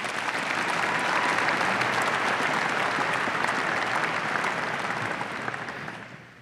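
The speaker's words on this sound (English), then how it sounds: "A round of applause for you." Applause from a crowd at a university fall commencement ceremony, a dense, sustained roar of clapping that holds steady and then begins to fade at the end, loud and filling the space.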